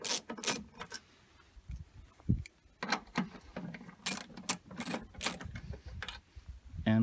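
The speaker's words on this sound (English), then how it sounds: "Next, we're going to take our 10-millimeter ratchet and undo these screws here." A 10 mm ratchet undoes bumper screws on a third-generation Toyota Tundra. It gives bursts of quick metallic clicking, close and fairly quiet, separated by short pauses and small handling noises.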